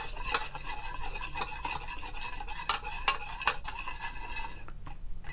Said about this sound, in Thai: จากนั้นก็คนๆให้เข้ากันนะครับ คนประมาณ1นาทีนะครับ